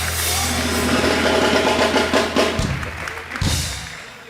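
A television studio audience on a Turkish talk show bursts into loud, continuous applause that swells and thins toward the end, with a few heavier thuds breaking through the clapping.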